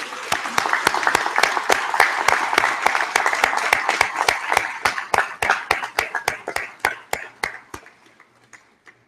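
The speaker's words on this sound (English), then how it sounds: "give a round of applause to your friends" Applause fills a University of Guelph convocation as the graduation audience claps. It starts as dense, steady applause, then thins over several seconds into scattered individual claps that fade out.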